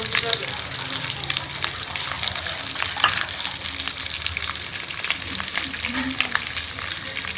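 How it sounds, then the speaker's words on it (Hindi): Bread-crumbed potato koftas fry in hot oil, giving a steady, close, loud sizzle with crackling pops and a few faint clinks of stirring throughout, no speech. "क्रम्ब लगा के मैं इसको फ्राई कर लूँगी सारों को एक ही दफ़ा।"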